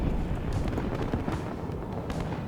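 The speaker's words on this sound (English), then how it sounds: "Looks like artillery's coming down too." Artillery strikes in the WARNO real-time strategy video game, a dense rumbling barrage of overlapping explosions and booms, loud and continuous with distinct impacts layered through it.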